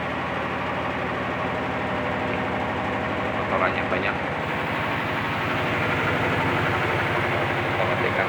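A washing machine running with a loud, droning roar like an airplane engine, steady and close throughout, with a person speaking briefly over it.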